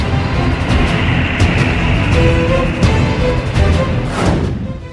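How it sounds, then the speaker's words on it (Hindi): An army convoy moves from Leh toward the LAC, with a steady heavy engine and road rumble from the passing vehicles. Tonal engine notes rise and fall throughout, and a vehicle passes close near the end. "लेह से एलएसी की ओर जाता फौज का काफिला।"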